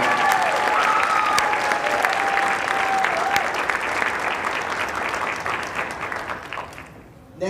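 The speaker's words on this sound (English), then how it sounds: "Let's give it up for Sydney and all" Audience applause for a graduating student at a high school band spring concert, a dense steady clapping that fills the hall and fades out toward the end, with a few whistles or cheers early on.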